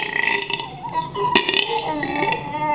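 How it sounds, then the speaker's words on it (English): A single long, loud, gurgling burp from a person at a Panda Express mukbang meal, rumbling close to the microphone for nearly three seconds with no talking. "Do you like me burping?"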